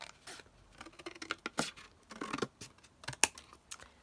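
Scissors or a blade snip and scrape through an old cardboard packaging box in short, irregular close-up cuts, with quiet rustling between them and no voices.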